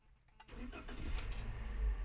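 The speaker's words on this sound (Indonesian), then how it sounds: "Kemudian kita starter mobil." A car engine cranks and catches, then settles into a steady, close low rumble that holds until the end, with no talking.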